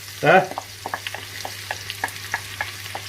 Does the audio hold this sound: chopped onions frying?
yes